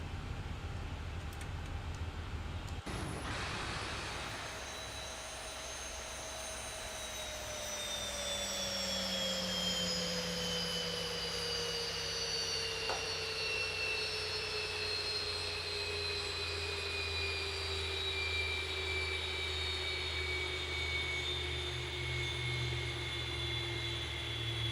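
Boeing 737-8 jet engines shutting down in the X-Plane 11 flight simulator: a steady whine with tones slowly falling in pitch over a constant roar, a click near the start, no talk.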